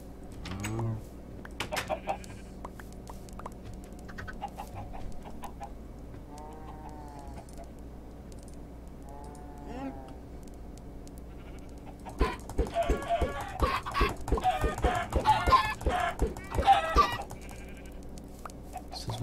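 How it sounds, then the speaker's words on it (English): Chickens cluck in Minecraft Bedrock Edition on Windows 10, a run of short repeated clucks and squawks that grows busier and louder toward the end, with game sounds and talk around them. "My chickens are all over the place now."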